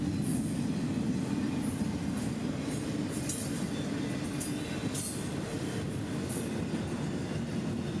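Freight train 107, hauling containers and trailers, gains speed heading southbound in Florida: a steady rolling rumble with repeated high wheel squeals and light clatter at moderate distance.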